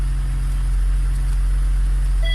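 A VAZ 2114 car engine with about 235,000 km on it idles in a steady, even hum with no knocking, close and continuous.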